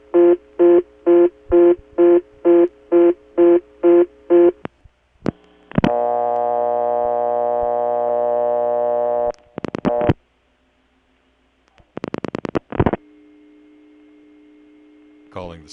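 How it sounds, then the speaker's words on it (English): An old Bell System rural office tone plant, at a No. 355 step-by-step exchange in Kent, Connecticut, pulses a busy signal in about nine even beeps. A long steady dial tone follows, then short clicks and another tone burst. "tone is coming from the oldest type of tone plant that the Bell System rural offices use"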